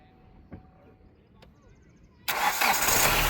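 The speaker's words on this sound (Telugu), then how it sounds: "సింగిల్ సెల్ఫ్లో కార్ స్టార్ట్ అయితే ఎటువంటి స్టార్టింగ్ ట్రబుల్ అయితే లేదండి" After a quiet stretch with a couple of faint clicks, a 2017 Hyundai i20 Asta car engine cranks and fires up abruptly on a single self-start, then keeps running at a steady, loud idle.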